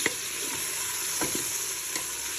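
Tomatoes and green chillies fry in a pan after onions, a dense close sizzle with a few spoon-stirring scrapes and taps over the continuous hiss.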